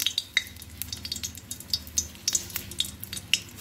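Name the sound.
dried red chili frying in hot oil in a wok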